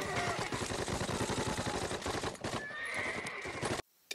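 Horses neigh and whinny loudly amid clip-clopping hooves and chaotic battle noise with scattered gunfire in a World War II paratrooper drama, the din cutting off abruptly near the end.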